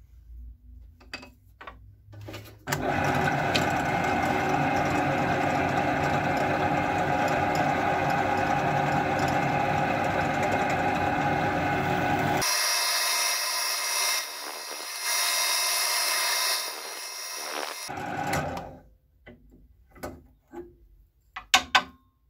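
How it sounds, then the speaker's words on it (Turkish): A power drill runs loud and continuous for about fifteen seconds, drilling center holes into the ends of a metal part for a homemade lathe, with its tone shifting partway through, and brief clanks before and after. "Şimdi şu şekilde alınlarından iki işaret delik deleceğim."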